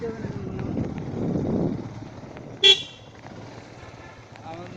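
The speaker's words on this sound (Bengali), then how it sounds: "হর্ন দিতিস কেন" A single short vehicle horn toot sounds midway through a motorbike ride near Bhawal forest, brief and fairly close, over wind noise and low background voices.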